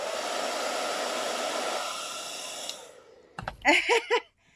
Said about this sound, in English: this is pretty wet, so I have to blow dry it first before I set it on there.